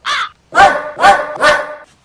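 A dog barks four times in quick succession at close range, loud and sharp, with a short gap after the first bark.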